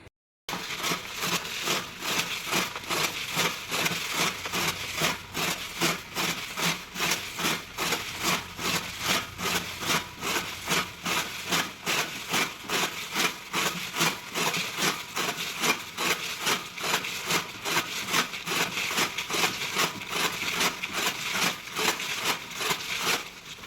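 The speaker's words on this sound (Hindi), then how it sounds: "पहले कुट्टी काटने का ही काम निपटा देते हैं हम, पहले कुट्टी काट लेते हैं" Fodder chaff (kutti) cut by hand on a chaff cutter, a steady run of rhythmic rasping, woody chopping strokes repeating quickly and evenly at close range for over twenty seconds, with no talk.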